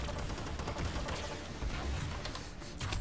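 Rapid bursts of explosions and gunfire from a bombardment in the hero shooter Paladins, dense and continuous with deep booming thuds throughout, no talk.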